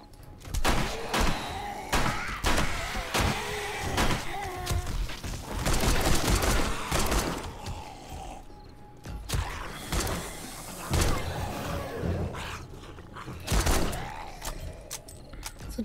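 Zombie horde attack in the survival game 7 Days to Die: loud, busy combat with repeated thuds, slams and gunfire bursts, dense and continuous with short lulls, no talk.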